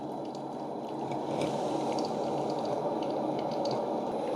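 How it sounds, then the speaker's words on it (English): Hot coffee streams steadily from the filter basket of a Ninja CP301 coffee maker, a continuous close trickling and splashing of liquid with no voices. "There's where the coffee's coming out."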